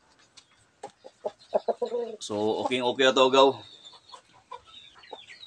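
A native Cantonese breed chicken, nearly three kilos, gives a loud harmonic clucking call for about a second, set between bursts of nearby talk.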